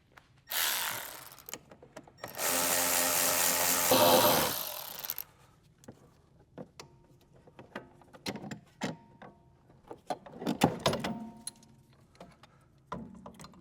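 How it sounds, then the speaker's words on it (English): Ratchet work on the front control arm bolts of a Tesla Model 3 or Model Y, with a long run of fast metallic clicking near the start, then scattered clicks, taps and clanks of parts and tools. "I can even use my ratchet"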